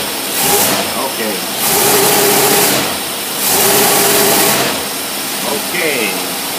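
A car engine fitted with a matched pair of AFB four-barrel carburetors idles and revs up in three swelling bursts, loud and close, while people talk over it.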